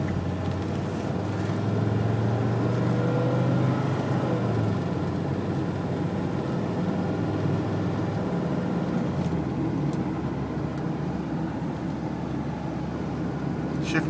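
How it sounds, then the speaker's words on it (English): A Mercedes-Benz 300D turbo diesel drives down a road, its steady engine note climbing in pitch as it accelerates, then dropping at a gear change before settling into a continuous drone. "I'll run it down this road, let it shift through the gears so you can hear it"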